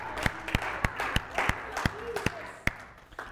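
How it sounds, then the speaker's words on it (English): A church congregation claps hands in praise, sharp close claps landing in a steady, even rhythm about three per second, while a voice keeps speaking underneath. "give the Lord a hand clap of praise"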